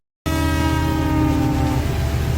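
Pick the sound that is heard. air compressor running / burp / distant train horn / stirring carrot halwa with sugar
distant train horn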